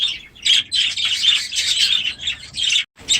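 Budgie chicks and their parents chirp and tweet in an aviary, a dense, continuous chatter of high calls with brief pauses, loud and close, with no talking.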